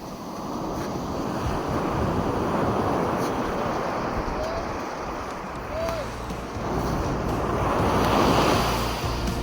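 Surf rolling onto Iceland's black sand beach, a steady broad wash of breaking waves with wind buffeting the microphone throughout, fairly loud and continuous.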